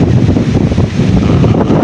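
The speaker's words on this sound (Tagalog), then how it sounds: "rinig nyo naman sa video lakas ng hangin ha?" Strong wind buffets the microphone in a loud, continuous low roar with no voices, at a milkfish fishing spot.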